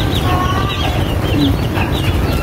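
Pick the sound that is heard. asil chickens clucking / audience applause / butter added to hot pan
asil chickens clucking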